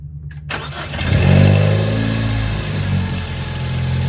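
A 2016 Ford Focus ST starting for the first time after work on its blow-off valve: a short starter crank catches into a loud rising rev, then settles into a steady close idle.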